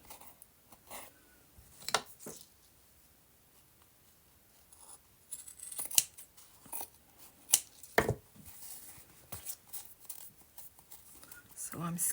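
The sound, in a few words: scissors cutting off linen threads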